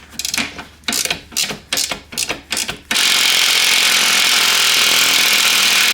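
Power tool loosening the lowest door hinge bolt on a lowered Audi, rapid loud rattling impacts in short bursts that give way to a sustained, steady whir close by.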